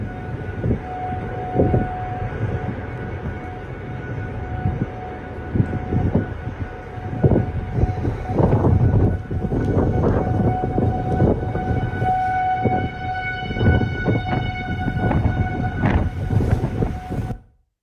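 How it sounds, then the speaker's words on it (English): Civil defense tornado sirens wail at a distance, a steady rising and falling tone over the whole stretch, with rumbling background noise beneath. "The sirens you hear in the background, that's our second sounding of sirens."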